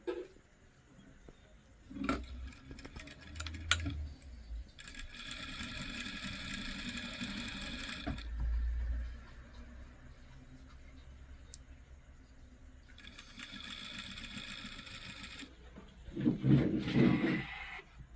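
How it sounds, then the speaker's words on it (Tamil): Sewing machine stitching a party frock in a tailoring shop, running in two long steady bursts of motor whir separated by quieter handling sounds and pauses. "ஆனால் இந்த சட்டைக்கு கட்டை நான் தையல் போட போகிறேன்."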